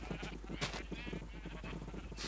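Sheep in the video game Minecraft bleat repeatedly, a string of short overlapping wavering calls with a steady low hum beneath, fairly close and clear, with no speech.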